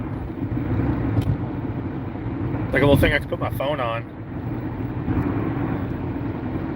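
Engine of a truck while driving, a steady low rumble running throughout beneath someone talking close by.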